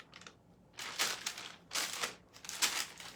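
A sheet of parchment paper being handled, crinkling and rustling in three or four short bursts close by, with quiet pauses between them.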